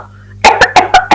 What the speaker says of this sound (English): all the other animals started to cough